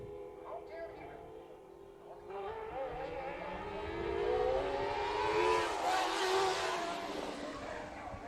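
Race car engines rise and wail as the field accelerates back to speed during a heat race at Bakersfield Speedway, a rising, sweeping roar under a commentator's running call.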